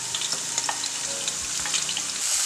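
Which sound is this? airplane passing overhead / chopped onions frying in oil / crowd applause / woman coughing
chopped onions frying in oil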